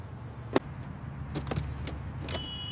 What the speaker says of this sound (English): Why isn't my car starting?